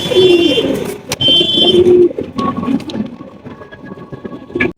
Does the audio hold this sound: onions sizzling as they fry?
no